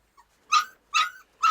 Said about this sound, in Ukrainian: Ой, такі мисливські песики.